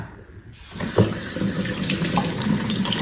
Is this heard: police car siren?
no